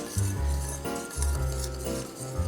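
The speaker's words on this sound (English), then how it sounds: "We'll whisk these all together." Baking powder, salt and brown sugar whisked together in a bowl for banana muffins, a series of close, rhythmic scraping and clinking strokes of a utensil against the bowl.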